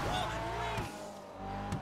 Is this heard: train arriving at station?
no